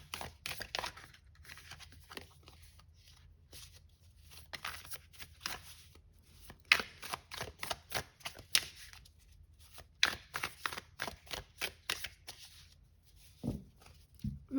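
Buffy the Vampire Slayer tarot cards are overhand shuffled close by, with rapid soft riffling flicks and slaps coming in bursts and pauses over a faint steady hum.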